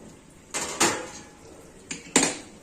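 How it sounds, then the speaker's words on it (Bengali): A lid lifted off a cooking pot, several sharp metallic clanks and scrapes in close succession, close and fairly loud in a quiet kitchen. "পাঁচ মিনিট পরে ঢাকনা তুলে দেখাচ্ছে"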